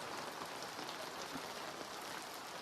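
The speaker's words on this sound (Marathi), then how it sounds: "पाऊस बघा" Steady rain falls outdoors near a temple and dargah, a continuous even hiss of drops on surfaces with no voices, moderately loud throughout.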